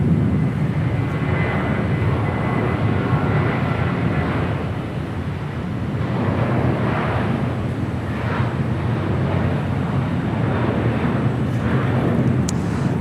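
A Delta Boeing 737-800 jet airliner at Los Angeles International Airport produces a continuous broad roar that swells and eases slightly over several seconds, with some wind buffeting the microphone.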